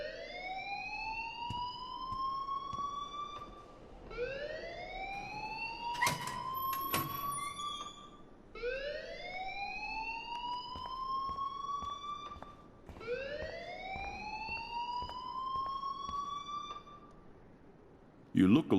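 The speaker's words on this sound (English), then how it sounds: "please turn off that alarm since that's your job" An alarm rings in the video game Life Is Strange: a loud, repeating rising electronic wail, four sweeps in a steady cycle, with voices talking over it.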